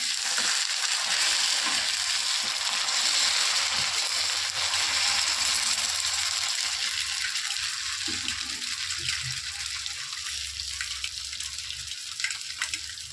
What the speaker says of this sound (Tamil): எண்ணெய் கடுகு போட்டேன்னா அது பொரியுது